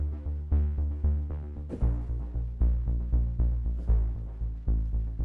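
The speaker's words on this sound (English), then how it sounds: "add some synth bass to the strings" A cinematic string ostinato repeats short, evenly pulsed chords over a deep Heaviosity Foundations synth bass, the low end swelling in partway through with a steady, throbbing rhythm and no voices.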